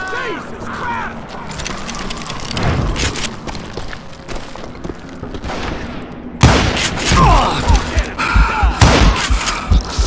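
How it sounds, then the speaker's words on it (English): A Gatling gun fires in the Western video game Call of Juarez, rapid loud bursts with clattering impacts and booms, growing heavier toward the end, mixed with game sounds and voices. "Kid Curry opened up on me with a goddamn Gatling gun"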